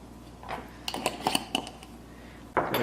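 A fork is pulled from a clatter of cutlery in a home kitchen, several short, bright metallic clinks in quick succession, close and fairly quiet, with a louder rattle at the very end.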